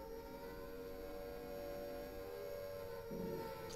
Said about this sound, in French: Et on a le son de sirène derrière qui est un peu le son mythique de Silent Hill.